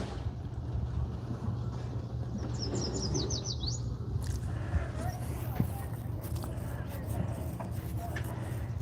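Brief high chirps from a bird rise over a steady low rumble of background noise aboard a boat, with distant faint calls later.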